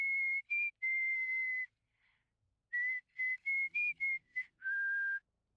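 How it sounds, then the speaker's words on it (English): A character whistles in The Texas Chain Saw Massacre video game, giving clear, loud, pure whistled notes, first long held tones and then a run of short repeated ones with brief pauses, over near silence. "Sissy, why is your fucking whistling so loud?"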